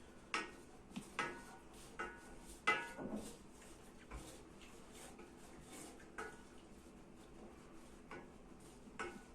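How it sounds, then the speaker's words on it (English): A spoon scrapes and knocks against a pot as homemade pork gravy is stirred vigorously, with irregular metallic clinks and taps at a quiet level and no talking. "And now just stir like crazy."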